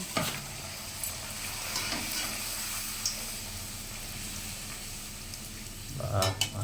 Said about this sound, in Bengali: বৃষ্টিতে গরম গরম লুচি ভাজা হচ্ছে, গরম গরম লুচি